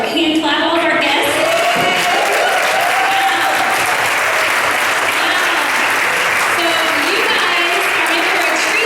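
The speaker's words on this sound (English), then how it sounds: "I'm going to give you some hand clap, all of our guests." An audience at a leadership academy session applauds the guests with steady, dense clapping throughout, and a voice carries faintly beneath the applause.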